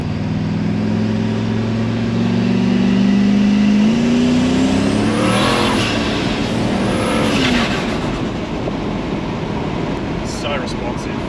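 A car in a shop ute build accelerates hard in first gear at part throttle, engine note rising loudly and steadily from inside the cabin with a voice talking over it.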